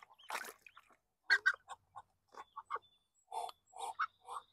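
Ducks and small ducklings in a garden give a string of short quacks and peeps, some overlapping, in irregular bursts close by.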